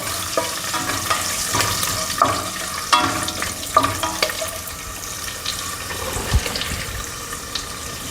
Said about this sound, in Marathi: हे काजू आणि शेंगदाणे हे पण टाकत आहे काजू थोडे लाल होऊन द्यायचे आहे